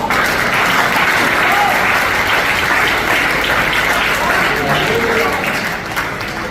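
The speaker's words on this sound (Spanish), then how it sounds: "Den un aplauso al Señor." A church congregation breaks into loud, dense applause that holds steady and full throughout, a thick wash of many hands clapping together.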